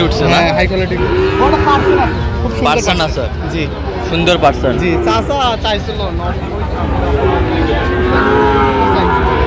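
Sahiwal cattle at a livestock market in Sylhet moo repeatedly in loud, drawn-out calls, close by, with people talking and bargaining throughout.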